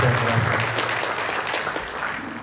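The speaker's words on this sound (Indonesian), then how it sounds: "kita beri tepuk dulu untuk" At a seminar on drug and HIV/AIDS awareness in education, an audience breaks into steady applause, dense clapping that stays full throughout and tapers slightly toward the end, with a low murmur underneath.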